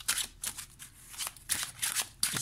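Slippery tarot cards shuffled and handled close by, giving several quick bursts of crisp riffling and flicking with brief pauses between them, no voices.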